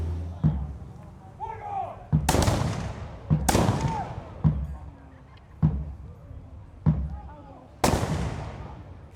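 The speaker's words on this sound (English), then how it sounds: "the English are going to give one more volley" Musket volleys fired in a battle reenactment of Drake's raid on St Augustine: several sharp, loud blasts spaced a second or two apart, each with a rolling echo, with a narrator's voice in between.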